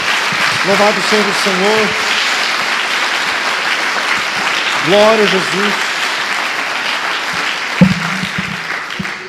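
A church congregation claps continuously in praise to Jesus, loud and sustained throughout, while a voice calls out short phrases of praise over the clapping.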